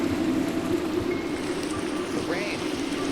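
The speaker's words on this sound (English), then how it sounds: "look at this pouring rain" Pouring rain in the Minecraft video game falls as a dense, steady hiss of wash and patter, continuous and fairly loud throughout, with a faint whistling sweep near the end.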